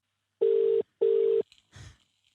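Two steady telephone tones, each under half a second and separated by a short gap, sound clearly while a call is being placed, followed by a brief faint rustle with no talking.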